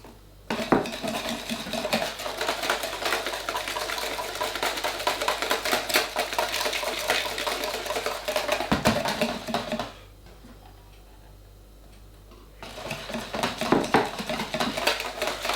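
A whisk rattles rapidly against a bowl while egg custard mixture is beaten, a dense continuous clatter that stops briefly for a couple of seconds before resuming.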